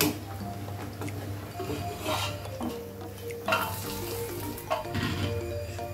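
Two eggplants cut into long strips fry in a hot pan, a steady close sizzle with occasional scrapes and clinks of a utensil stirring against the pan.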